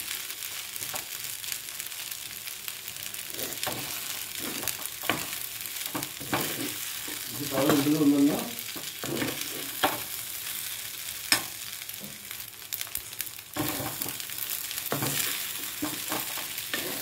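Capsicum Schezwan fried rice tossed and stirred in a hot pan with rice, a steady close sizzle broken by repeated scraping strokes of a spatula, with a louder churning stretch midway and no voices.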